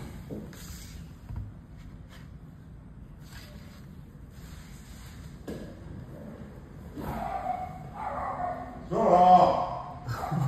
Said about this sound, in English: leave him alone, he's just barking.